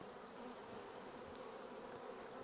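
Honey bees buzz around a beehive that can hold up to 40,000 bees, making a faint, steady, continuous hum with no speech.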